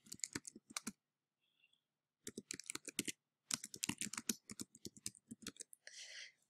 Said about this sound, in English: I'm going to go ahead and type the name of the application and just a brief descriptor.